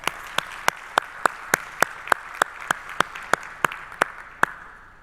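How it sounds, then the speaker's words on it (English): An audience applauds, a steady wash of clapping with a dozen or so sharp, loud, evenly spaced claps standing out above it, fairly close and with no talking. "Can we give them a round of applause?"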